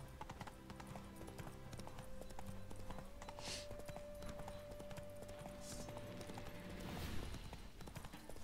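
Rhythmic clip-clop of horse hooves trotting steadily over ground in The Witcher 3, with a sustained musical tone and faint mechanical sounds in the background.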